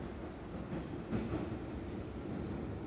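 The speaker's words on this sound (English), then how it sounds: "So we are on a train." Train ride sounds in a video game, a steady low rumble of a moving railcar heard at moderate volume with no talk over it.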